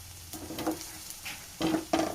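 Tomatoes and whole, uncut garlic cloves fry in a pan over a low flame, making a soft sizzle with a few short bursts of stirring and scraping that stand out clearly.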